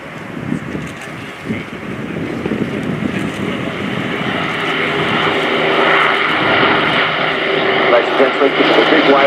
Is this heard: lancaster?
yes